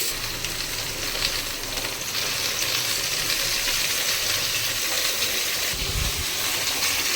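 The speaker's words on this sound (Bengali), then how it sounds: "আলু আর কুমড়োটাকে মিনিট 2 মতন ভেজে নেব।" Potato and pumpkin pieces frying in oil for a Bengali pui shak chorchori, a steady, dense hiss and crackle that holds close and even throughout, with no voices.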